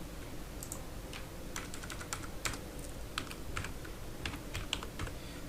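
Rapid keystrokes clatter on a computer keyboard while text is entered into a WordPress Elementor hotspot tooltip, an irregular run of soft clicks over a steady hiss of room noise, with no voices.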